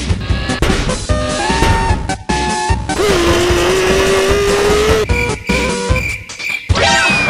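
Car from the video game Weird Strict Dad speeding off in a loud, chaotic burst of revving engine, crashes and rising whining tones. It comes with abrupt cuts and a squealing pitch sweep near the end.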